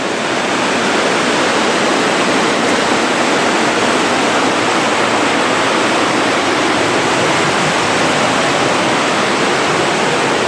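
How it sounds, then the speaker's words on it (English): Water pours and drips continuously through a wet gorge, a loud, dense, unbroken rushing roar that fills the whole stretch, with no voices. "here is the gorge. And you can see it's dripping wet"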